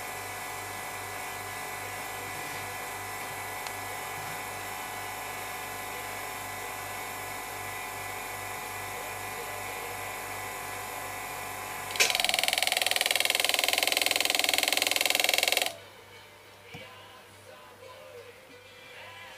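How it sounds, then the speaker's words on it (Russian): Round graver cutting hardened, work-hardened metal held in an engraving ring holder, a steady high-pitched grinding whir that turns louder and harsher for a few seconds, then stops abruptly, leaving faint room noise. "Я использую обычный круглый штихель или болт-штихель."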